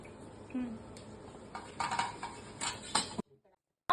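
Fried onions tip into a pot of dum biryani and get stirred, making clinks and scrapes of a utensil against the pot with a few brighter metal knocks, all fairly close, then a short silence at the end.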